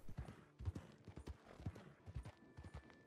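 Horse hooves clip-clop at a steady trot in the video game Red Dead Online, a close, rhythmic series of soft thuds carrying on alone without talk.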